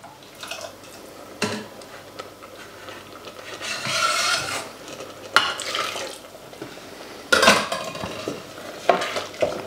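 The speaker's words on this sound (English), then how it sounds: "you need to stir the risotto" A spoon stirs asparagus and sundried tomato risotto in a pan, giving close scraping, rasping strokes that come in several bursts of varying loudness, with soft background rumble between them and no talking.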